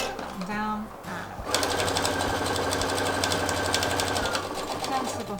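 Sewing machine running a 1 cm seam on a handmade bag, a brief start and stop then a steady fast mechanical stitching rhythm, loud and close with a voice talking over the start.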